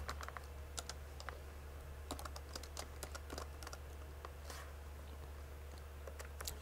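Quiet, close typing on a computer keyboard, a quick run of irregular key clicks over a steady low hum with no talk.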